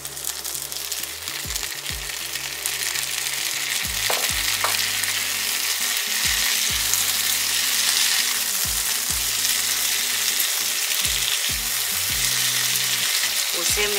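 Chopped tomatoes dropped into sautéed onions for paneer angara fry with a loud, continuous sizzle, broken by repeated scraping strokes of a spoon stirring the pan, close and without speech.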